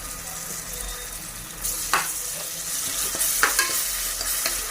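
Ginger garlic paste sautéing in a pan with softened onion for mutton curry, a steady sizzle with a few scraping stirs growing busier toward the end.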